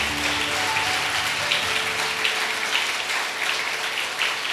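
A congregation applauds families at a church gathering: dense, steady clapping from a sizable crowd in a room, sustained evenly throughout with no speech over it.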